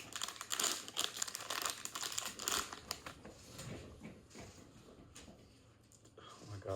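Cardboard box packaging of a Pop Mart Chucky figure being torn and crinkled open, loud close-up rustling and ripping in bursts that ease off midway, with a person talking over it.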